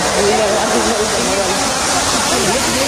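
Duduma waterfall in Koraput rushing loudly and continuously, a broad roaring wash, with voices talking faintly over it.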